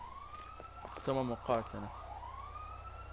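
A police car siren wails faintly in the background, its rising tone sweeping at the start and again near the end. Someone speaks briefly over it.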